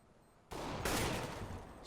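Burst of M4 rifle gunfire in a Counter-Strike competitive match, starting abruptly and continuing as a loud sustained rattle of rapid shots for over a second.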